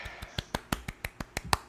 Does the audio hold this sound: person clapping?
yes